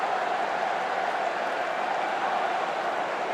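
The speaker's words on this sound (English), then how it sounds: "Something for their fans to cheer." Football fans cheer a Bolton Wanderers goal, a steady, even wash of crowd noise and applause heard at a distance, with no sharp peaks.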